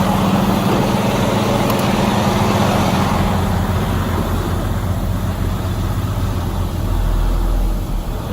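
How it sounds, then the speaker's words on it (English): Semi truck diesel engine idling steadily at close range, a continuous low rumble with a broadband roar that eases slightly toward the end as it winds down, no talk over it. "Idle it down. Shut her down."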